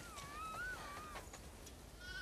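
A sheep bleats in The Last of Us Part II at a farmhouse, a few wavering, drawn-out cries that are faint and somewhat distant over a quiet background with no talk.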